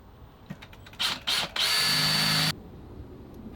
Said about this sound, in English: drilling a hole in the rim.